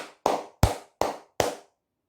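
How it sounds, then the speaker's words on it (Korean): Five sharp hand claps, close and loud, fall at an even rhythm with no talk over them. "여러분들 박수 한번 크게 치고 가도록 하겠습니다."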